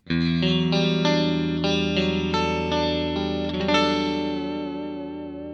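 Electric guitar chords ring out with a shimmering, wavering 80s-style chorus effect and no EQ, several strums followed by a sustained, slowly fading chord.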